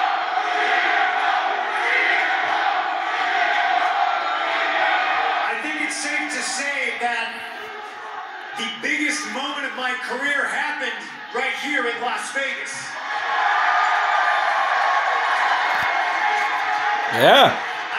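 A wrestling arena crowd at an AEW Dynamite event roars and cheers continuously, swelling and dipping in a loud, distant wash while amplified voices speak over it.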